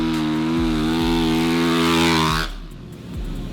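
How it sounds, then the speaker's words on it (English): A 2017 Honda CRF450R motocross bike engine holds a loud, steady high-pitched buzzing rev up close, then drops abruptly to a lower, rougher idle. "Here it is, finally, the 2017 CRF450, one of the most anticipated bikes I've seen in quite a while."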